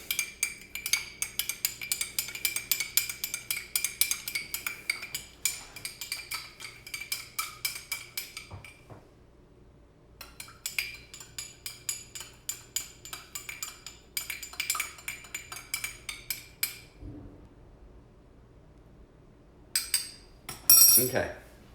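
A spoon stirs salt into water in a glass, making rapid, bright clinks against the sides in bursts. The clinking pauses briefly, resumes, and ends with a louder flurry.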